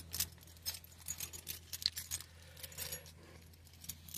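Keys jangle in short, repeated metallic bursts while someone hunts for car keys, close and fairly clear over a low steady hum, with no talking.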